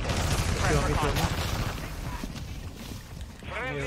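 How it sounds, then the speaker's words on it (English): Mortar strike and gunfire in Call of Duty Warzone on Ashika Island, a loud boomy burst at the start followed by rumbling sporadic shots, with talk over the noise. "That's my mortar."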